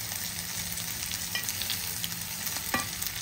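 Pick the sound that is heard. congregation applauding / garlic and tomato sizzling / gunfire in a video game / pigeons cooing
garlic and tomato sizzling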